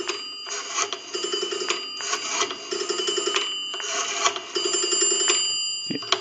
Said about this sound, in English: Now we want to dial our numbers out.